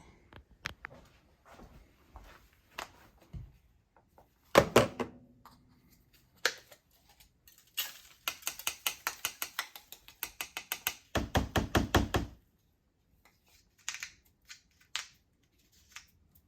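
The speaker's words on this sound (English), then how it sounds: "now you just twist the back off and then you can grab the filter and pull it out and dump it" Plastic parts of a Saker mini brushless car vacuum cleaner clicking and ratcheting as the back is twisted off and the filter pulled out and emptied, with a dense run of close, rapid clicks and a few softer taps around it.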